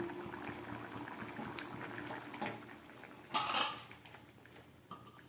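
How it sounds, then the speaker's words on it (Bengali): A lid goes onto a pot of freshly cooked toor dal with a bright metallic clank partway through, over a faint low bubbling and a few small utensil taps. "ঢাকা দিয়ে দিচ্ছি।"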